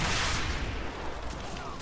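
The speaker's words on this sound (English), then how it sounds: "take the hail of gunfire!" Gunfire in the video game Call of Duty 4 during a chase with tanks, a dense, steady roar of blended shots and explosions filling the whole clip at a constant loud level.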